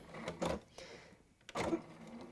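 A home sewing machine stitches a short back stitch on a quilting project, with two brief mechanical bursts of needle running separated by a pause.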